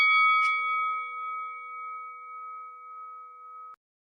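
A single bell strike rings out clearly, with a bright metallic attack and a steady, pure tone that holds for several seconds before cutting off abruptly. It plays alone with no talk over it.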